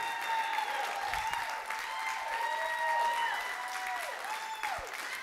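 A church congregation claps and shouts in praise, a loud continuous mass of applause with rising and falling cheering voices layered on top throughout.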